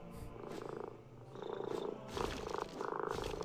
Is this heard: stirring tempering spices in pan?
no